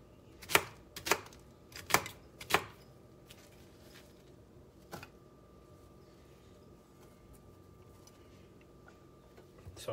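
Vegetables for salsa, such as onions, tomatoes and jalapenos, chopped by hand with a knife on a board: four sharp close knocks in quick succession, then a single lone chop after a pause, against a quiet room.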